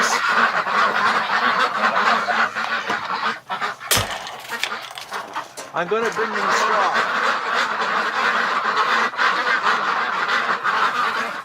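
Ducks penned in winter lockdown honk and quack loudly and continuously close by while a person talks over them, with a sharp knock partway through.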